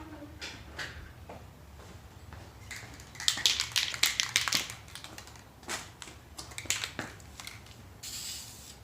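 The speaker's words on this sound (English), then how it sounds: "Spray paint." A spray can coats a Subaru WRX charge pipe in short hissing bursts, faint and close, with a denser cluster of sprays in the middle and another hiss near the end.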